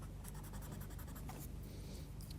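A rubber blender rubs over coloured drawing on paper, quiet close scratchy strokes in a quick repeating rhythm, faint and alone.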